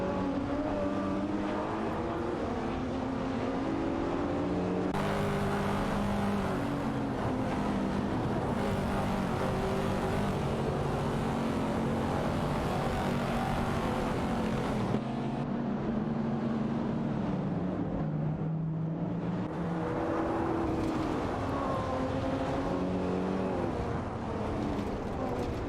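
Race cars on an AI racing circuit drive continuously toward a hairpin, engines droning and shifting in pitch with revving surges throughout, loud and steady with no talk.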